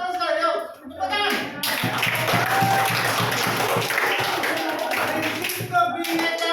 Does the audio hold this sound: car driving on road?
no